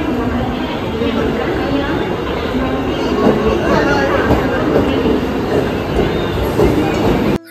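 A local train leaving Dombivli rattles along with a steady rumble and clatter, while passengers chatter nearby throughout and the sound cuts off abruptly at the end.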